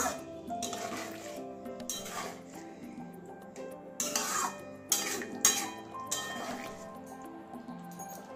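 A spoon stirs and scrapes through a thick egg and cauliflower curry in a pan, producing wet squelching and clinking metal knocks in uneven bursts, moderately faint and close.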